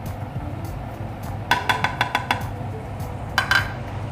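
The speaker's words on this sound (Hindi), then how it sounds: "अच्छे से मिक्स कर लेंगे।" Mixing spices into spring onion chutney in a pan: a quick run of metallic clinks as a spoon strikes the pan rim, then a brief pause and another short burst of taps, over a low cooking background.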